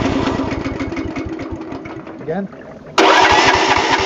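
A stump grinder engine fed on wood gas straight to its carburetor chugs, sputters, then catches and runs loudly near the end, with a voice speaking briefly over it.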